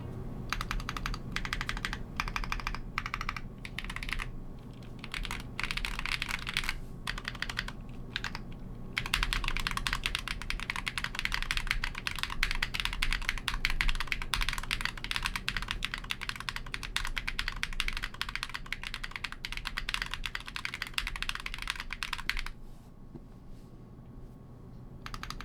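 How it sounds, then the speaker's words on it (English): Someone types steadily on a sock-mounted TOFU 65 mechanical keyboard built without plate foam. The keystrokes are soft, rapid and close, with brief pauses, before the typing stops near the end. "I prefer the sound and feel of the sock-mounted style of this keyboard"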